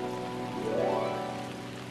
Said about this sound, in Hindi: आंखें बंद करके बारिश को महसूस करो।